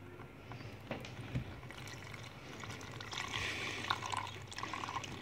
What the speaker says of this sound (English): I hope it pours nicely.